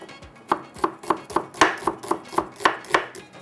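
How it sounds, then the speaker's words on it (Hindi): A knife chops a small onion on a cutting board in a home kitchen, about a dozen steady, evenly spaced knocks close by with no talking. "एक अदद प्याज छोटी सी लेंगे, इसमें कटिंग करते हैं प्याज को।"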